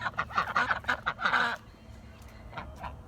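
Loud, rapid honking quacks from several ducks close by, a burst of calls that trails off into a few fainter squawks.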